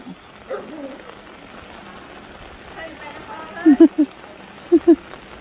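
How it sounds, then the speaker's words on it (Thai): Heavy rain pours during a storm that is flooding the ground in front of a house, a steady hiss under someone talking, with a few loud close thumps near the end. "ฝนก็ตกหนักทีเดียวเชียวนะครับ โอ้ฝนตกหนักแบบนี้ทำไงล่ะเนาะนี่เรา"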